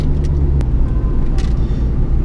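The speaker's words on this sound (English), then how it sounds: "this trans is a bit noisy. I noticed it kind of sounds like there's rocks in it" A loud, steady car drivetrain rumble from a noisy transmission that sounds like rocks inside, with faint rattling and a few brief clicks, close and continuous throughout.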